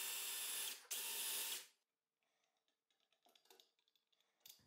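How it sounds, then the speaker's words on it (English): Drilling a hole through a metal bracket into a wooden workbench with a wood block used as a jig: a bright, loud drill whine runs for under two seconds with a brief pause, then falls silent before faint handling clicks follow. "I use a wood block as a jig to drill the hole straight on."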